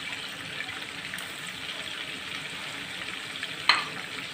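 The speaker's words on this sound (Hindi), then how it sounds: "अब ये देखिए इसमें मैं कोई मसाले नहीं डालूँगी, बस सिर्फ मैं ये वाली मिर्चें डालूँगी इसमें। ये भी इसके साथ में फ्राई करूँगी।" Green chillies and chicken frying in a pan, giving a continuous dense crackling sizzle that holds steady throughout, with one brief sharp clink near the end and no voices.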